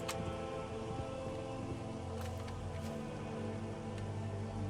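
Steady rainfall in the video game Daggerfall Unity, a constant patter with a few sharper drop hits, moderately loud and unbroken, with no speech.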